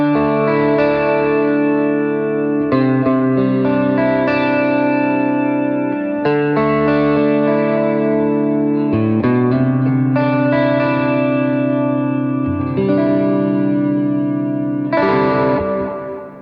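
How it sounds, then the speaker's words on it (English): Electric guitar played through the reverb of a Strymon Flint pedal on a live worship pedalboard, sustained chords ringing out with a lush, lingering wash between changes, loud and continuous without talk. "another thing that I had on pretty much all the time was the reverb on the Flint"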